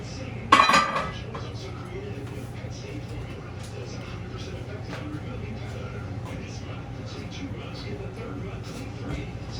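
A metal lid is set back onto a cooking pot with one sharp clank near the start, followed by a low steady background hum and faint kitchen noise.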